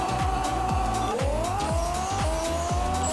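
A rear-wheel-drive car in the Pixel Car Racer drag-racing game screams through its gears, with a loud engine whine climbing repeatedly and dropping at each quick shift in a steady rhythm, and no voices.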